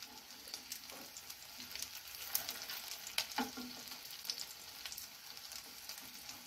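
Egg cutlets shallow frying in a few spoons of oil, a soft crackling sizzle with scattered small pops and faint stirring scrapes, fairly quiet and with no talking.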